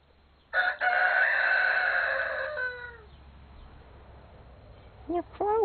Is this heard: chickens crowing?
yes